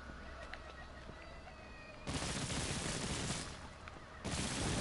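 In Infamous Second Son, gunfire breaks out in two loud, dense bursts of rapid shots after a quieter ambient stretch, the second burst cutting in near the end.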